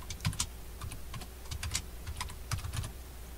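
Typing on a computer keyboard, with quick irregular clicks of individual keys close by and fairly quiet, a few stronger taps among them, with no talk.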